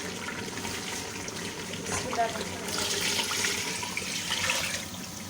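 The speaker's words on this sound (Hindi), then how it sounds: "अब हम इसमें जल्दी से पानी शामिल करेंगे।" Water from a jug pours steadily into a pot of ghee-drained meat for Lahori nihari, a loud gushing stream that swells midway, with a voice speaking over it.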